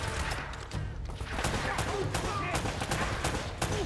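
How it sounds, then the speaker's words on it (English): Sustained enemy machine-gun fire in the video game Uncharted: Drake's Fortune, a dense continuous rattle of rapid bursts lasting throughout, loud and close, with no talking over it. "there's a guy there with a machine gun"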